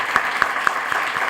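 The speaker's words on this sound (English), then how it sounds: "you guys should get a round of applause for that" An audience at an industry talk gives a brief burst of applause, a dense wash of clapping with a few sharper claps standing out at even intervals.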